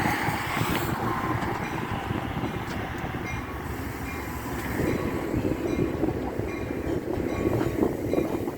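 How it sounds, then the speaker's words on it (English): Two trains pull into a Chicago station, a steady rumbling roar of rail cars with a brief screech early on, rising in loudness later as they draw nearer. "Two trains are coming in."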